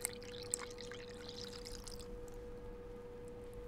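Milk, oil and egg are poured into a bowl of flour for blueberry muffins, giving a faint, short liquid pour with a light splash and trickle that fades after about two seconds, against a quiet kitchen background with no voices.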